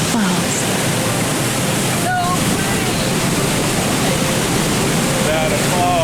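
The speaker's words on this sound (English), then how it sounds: "listen to that roar of that waterfall" A steady, powerful roar of Nevada Falls, a 594-foot waterfall in Yosemite, fills the scene continuously, broad and unbroken, with faint higher chirps briefly rising above the rushing water.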